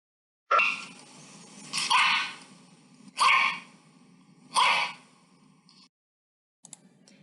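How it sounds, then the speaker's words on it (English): A dog barks four times at a steady pace, sharp and fairly close, with a faint fifth yip at the end. "Did you guess dog barking?"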